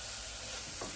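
Butter and pepper frying in an oven-safe pan over medium-low heat for a tamale pie, a steady close sizzle with a brief scrape of stirring near the end.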